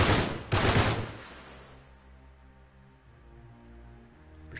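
Gunfire from the video game Uncharted 3 opens with two loud bursts of rapid shots in the first second, then fades to a low tonal game background hum.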